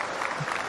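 Brief burst of applause from a small group, a short patter of clapping lasting under a second at moderate level.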